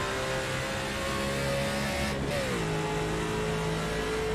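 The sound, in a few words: NASCAR race car engine accelerating at Talladega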